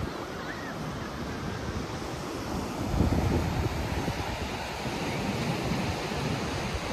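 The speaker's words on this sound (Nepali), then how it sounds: "चिसो हावा चलिरहेको छ" Cold wind gusting steadily across Long Sands Beach in the UK, a broad rushing roar mixed with breaking surf, swelling briefly louder midway and continuing without voices.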